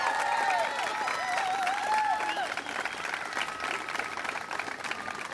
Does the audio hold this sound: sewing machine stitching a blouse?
no